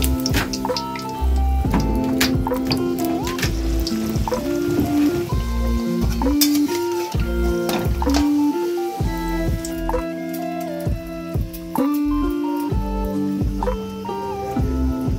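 Mughlai paratha fries in hot oil, giving a steady crackling sizzle with scattered pops and clatter that runs continuously through the whole stretch.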